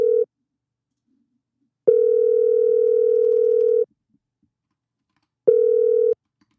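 Telephone dial tone during a call-in to a live show, sounding in three steady, loud bursts of an unbroken tone separated by silent gaps, with no voices.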